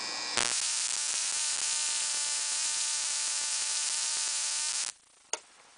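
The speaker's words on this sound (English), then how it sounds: "it's getting that static sound, and if you can hear that, it's kind of an odd sound" Harsh static buzzing from a high-voltage coil box, a loud steady electrical crackle that starts abruptly, holds for about four and a half seconds, then cuts off, leaving a faint hiss and a single click.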